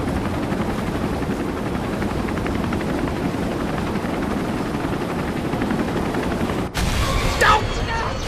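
Helicopter in the Resident Evil 3 Remake horror game, its rotor beating in a steady, loud, dense thrum that fills the scene before cutting off abruptly near the end.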